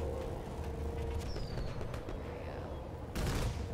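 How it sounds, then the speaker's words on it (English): Fireworks crack and pop at a distance during a night operation, continuous rumbling bursts with a sharper blast near the end, under a steady noisy background. "Fireworks going off."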